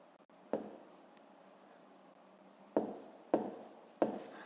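A pen writes a long division calculation on paper, with four distinct taps and scratches, one early and three close together near the end, quiet and close in a still room.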